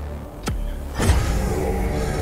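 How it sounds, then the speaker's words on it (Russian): In DOOM Eternal, the Blood Punch charge-up sounds as two quick whooshing sweeps about half a second apart, the second followed by a low rumbling surge, loud against a steady game background. "А, или это кровавый удар накопился."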